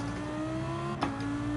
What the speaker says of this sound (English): beautiful engine note from the Lamborghini Huracan GT3.